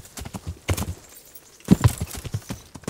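Horse hooves clip-clopping during riding in Kingdom Come: Deliverance, two short bursts of uneven hoofbeats separated by a brief pause, fairly close.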